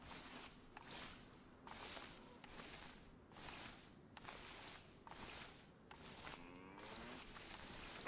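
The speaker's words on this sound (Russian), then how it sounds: "Чужие коровы были, видимо." Cows in the survival video game DayZ moo repeatedly, about eight long lowing calls in a steady rhythm, each separated by brief gaps, fairly close and clear with no talking.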